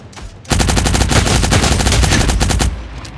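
Rapid automatic gunfire in the Cyber Hunter battle royale game, a loud dense burst of fast-repeating shots lasting about two seconds, with no talking.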